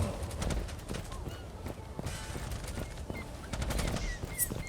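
Kar 98 bolt-action rifle shots in an online game, sharp cracks repeating amid dense gunfire and in-game action noise, under a busy, cluttered mix.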